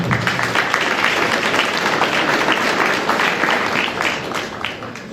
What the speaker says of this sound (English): let's give them another round of applause here first